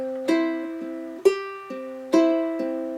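Fingerstyle ukulele with two strings plucked together in harmony, four clear plucked notes ringing and decaying in a slow even rhythm, close and alone.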